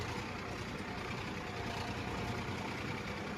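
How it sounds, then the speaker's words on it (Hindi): A tractor engine runs steadily in a farm field, a close, continuous low rumble with no pauses or other sounds. "आ गया हूँ मैं भी अपने ट्रैक्टर पे, ट्रैक्टर को चलाने के लिए"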